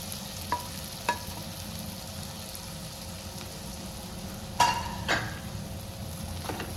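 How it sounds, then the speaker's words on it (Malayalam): Pieces sizzle and fry in butter with garlic in a pan, giving a continuous soft crackling hiss with a few sharp stirring scrapes and clinks, no voices. "കഷ്ണം നമുക്ക് ബട്ടറിലേക്ക് ഇട്ട് കൊടുക്കാം"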